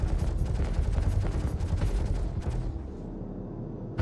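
Heavy size 4 spaceship cannon fire in Star Citizen, a loud, dense stream of rapid booming shots for nearly three seconds, then dropping off abruptly to a low rumble.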